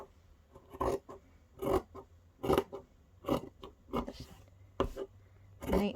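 Scissors trimming textile fabric art being neatened before framing, a series of crisp separate snips and rasping cuts at irregular intervals, close and clear with no talking over them.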